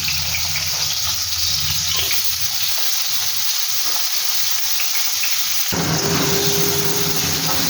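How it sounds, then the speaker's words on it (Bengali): Potatoes coated in salt and turmeric fry in hot white oil, giving a loud, continuous close sizzle that grows denser and fuller partway through. "তেল গরম হলে আলুটাকে ভাজে। তেলটা একটু গরম হোক। আলুটাকে ভেজে নিচ্ছি।"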